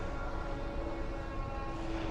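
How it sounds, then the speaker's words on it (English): A D line subway train pulls into Fort Hamilton Parkway station in Brooklyn, a loud continuous rumble with steady tonal whine from wheels and motors, heard close and unbroken with no talking. "This is coming into Fort Hamilton Parkway train station on the D line."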